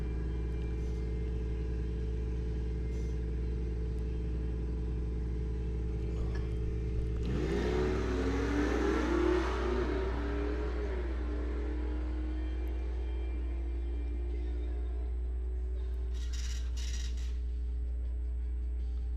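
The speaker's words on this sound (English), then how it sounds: "Ford Chevy matchup coming at you." A Ford and a Chevy bracket racing car launch down the Coles County Dragway. A brief engine roar swells partway through and then fades into the distance over a constant low hum, with no talk.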